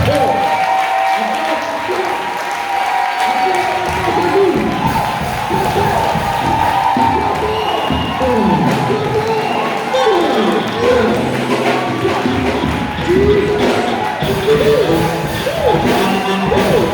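A church congregation at a French-language service cheers and applauds: sustained, dense clapping mixed with whoops and shouts fills the whole stretch, loud and close, with a preacher's voice carrying over it.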